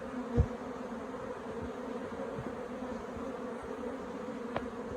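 Honeybees buzz steadily inside an opened, queenless and stressed beehive, a close, continuous drone that holds an even level throughout, with a couple of soft thumps.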